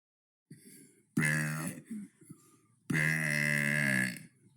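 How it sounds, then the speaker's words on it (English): Two long, loud, deliberate burps, the second lasting over a second, separated by short grunting throat noises, close to the mic with no speech. "That was day 74 of burping for 100 days."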